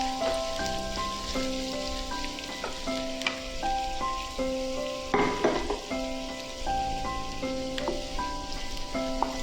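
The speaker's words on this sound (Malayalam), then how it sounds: "ഇത് നന്നായി ഇളക്കി ഒരു ബ്രൗൺ കളർ വരുവോളം നമുക്ക്" A mixture fries in a pan while being stirred until brown, making a continuous rain-like crackle and sizzle with occasional louder scrapes, set against steady sustained tones throughout.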